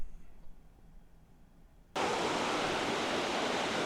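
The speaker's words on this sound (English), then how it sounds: "I'm coming a lot closer on the waterfall" A vertical waterfall's roar cuts in abruptly after a quiet start, becoming a loud, steady, broadband rush of falling water that holds unbroken to the end.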